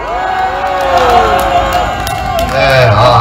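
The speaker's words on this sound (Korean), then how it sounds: "재우 사무총장님께 큰 환호 박수 부탁드립니다" A large crowd at an outdoor protest rally in front of the Bank of Korea cheers loudly and continuously, a dense roar of many raised voices filling the space.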